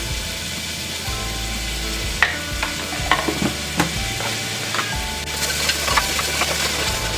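Ginger garlic paste frying in a pan, a steady close sizzle with intermittent stirring scrapes and clinks against the metal, no voices.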